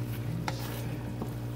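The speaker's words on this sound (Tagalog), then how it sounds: "Halo lang ng halo." Coconut latik stirred in a pan as it dries out, a steady low frying sizzle with a couple of soft scraping strokes, close and fairly quiet, no voices.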